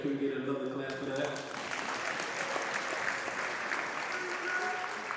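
Sustained applause from a crowd at a high school basketball game, Woodside versus Miller School, dense clapping that carries steadily through the whole stretch with a brief tonal sound at the start.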